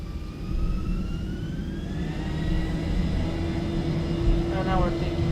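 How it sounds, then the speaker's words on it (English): Boeing 737-800 jet engines spooling up for takeoff in the X-Plane 12 flight simulator, a steady low rumble with a rising whine that climbs in pitch, continuous and fairly quiet. "And now we're taking off. Auto throttle comes on."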